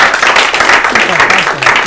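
An audience at an Urdu-language quiz programme breaks into steady applause after a correct answer, a full wash of clapping that continues evenly throughout with a faint voice underneath.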